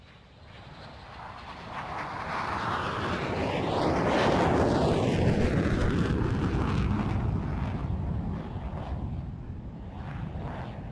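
A French Air Force Mirage 2000D fighter jet coming in to land at an air show, its engine roar swelling from a distance to a loud, broad rush overhead with a sweeping whine, then slowly easing off.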